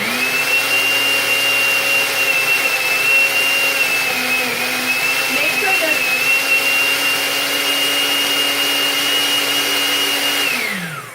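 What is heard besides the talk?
blender blending vegetables with coconut milk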